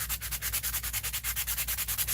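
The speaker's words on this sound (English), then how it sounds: "my block sander. Dollar Tree" A cheap Dollar Tree block sander scrubs back and forth over a paper collage surface in quick, even strokes, about eight per second, a close, raspy rhythmic rubbing with no voices.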